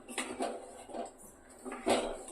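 Metal cookware clanks and scrapes as a pot is set down in a home kitchen, several soft knocks spaced through the moment, close and moderately quiet with no talking.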